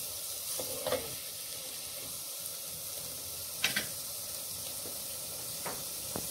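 Vegetables and herbs sauté in a pan for the northern Iranian dish mella gharmeh, a steady soft sizzle with a few brief scraping stirs of the spoon, fairly quiet and with no talking.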